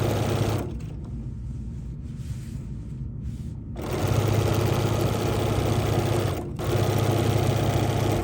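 A sewing machine stitching a quarter-inch seam allowance on quilting fabric runs in steady whirring bursts, stopping briefly near the start and again midway before resuming, loud and close with no talk.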